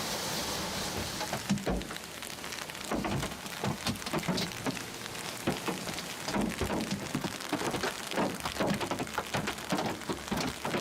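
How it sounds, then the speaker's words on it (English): Hail falls in a park during a storm, pelting surfaces in a dense, continuous patter of sharp close impacts, with low rumbling wind underneath. "out of nowhere, hail started falling, and they had to take shelter in their car"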